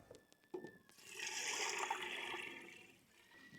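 Water pours steadily into a cooking pot holding chickpea and red lentils, a continuous close, fairly loud rush of liquid that swells after a brief start and tapers slightly toward the end, with no talking.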